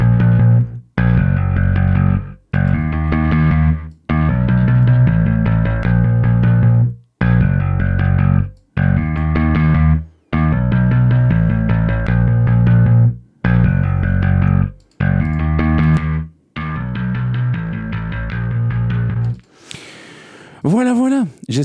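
A bass line played in repeated phrases, washed in reverb with a swirling modulation effect, loud and full, ending with a brief warbling tail.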